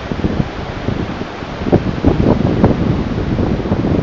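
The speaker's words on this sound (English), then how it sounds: "I think it'll go windy with that breeze when I come round" Loud, buffeting wind noise against a microphone at the beach at New Polzeath, gusting in uneven bursts over a steady roar.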